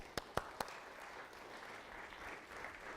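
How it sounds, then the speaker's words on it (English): Faint audience applause at a stress-management talk, opening with three sharp, close claps and then fading into a soft, distant patter of scattered clapping. "Okay, big round of applause."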